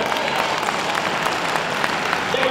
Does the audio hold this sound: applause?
yes